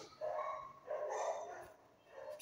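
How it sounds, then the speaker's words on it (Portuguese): A dog barks in short, faint yips and bow-wows, a few separate calls spread over a couple of seconds with no talking. "Cachorro latindo."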